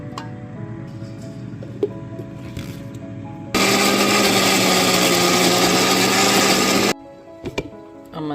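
An electric kitchen blender grinds curry masala with water, a loud, steady, high whine that runs for about three and a half seconds between quieter stretches of background noise.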